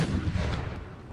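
A howitzer fires carcass shot in Empire: Total War, one heavy low boom rolling off into a short rumble.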